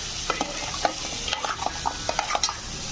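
A spoon stirs ridge gourd and chana dal in a pan, giving a steady soft sizzle broken by quick scraping strokes against the metal. No voice is heard.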